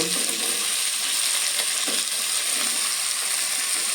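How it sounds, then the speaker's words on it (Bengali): Spice paste and vegetables fry in a hot pan as they are stirred, giving a steady sizzle with occasional scraping knocks from the spoon and no talking. "এই সবজিগুলো দিয়ে আর একটু নাড়াচাড়া করে মশলাটাকে কষিয়ে নেব"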